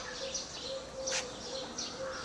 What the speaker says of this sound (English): I hear doves, a lot of doves.